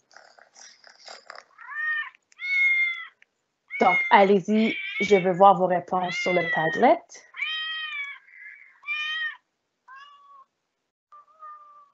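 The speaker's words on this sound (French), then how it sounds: "ils font parfois des drôles de miaou" Several high cat meows ring out in short, separate calls, some drawn out, near and fairly loud, with a person talking partway through.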